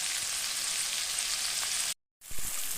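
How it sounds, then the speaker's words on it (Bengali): Spice paste for a chicken curry sizzles steadily in a hot pan, a continuous loud frying hiss that cuts out briefly and then resumes. "দেখো মশলাটা কষা হয়ে গেছে"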